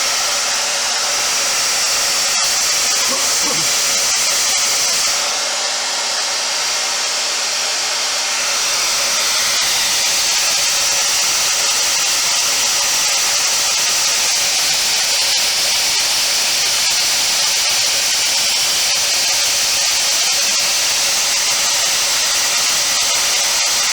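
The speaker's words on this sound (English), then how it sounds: "Dry up the color a little bit with blow dryer." A hair dryer blows steadily and loudly to dry paint on a latex skinned-face mask, a constant roaring hiss with a brief shift in pitch near the start.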